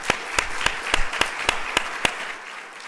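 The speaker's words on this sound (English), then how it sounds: "Please give them one more round of applause." Applause for scholarship awardees at a U.S. Army Women's Foundation ceremony, heard as a hall-wide wash of clapping with a few sharp, evenly spaced claps standing out near the microphone before it dies away.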